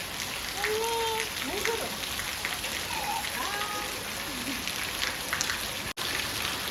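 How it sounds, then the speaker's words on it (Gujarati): Heavy rain falls outdoors in a steady, dense hiss that barely changes throughout, with faint tonal calls or voices drifting under the downpour. "વરસાદ આવે છે અત્યારે ફૂલ આવ્યો અત્યારે નકર ધીમો ધીમો હતો"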